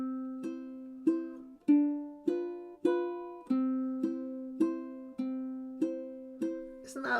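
Ukulele in high G tuning playing a waltz intro, a sequence of about eleven evenly spaced plucked notes and chords in a steady three-count rhythm, close and clear with each note ringing and decaying, ending in a brief noisy strum.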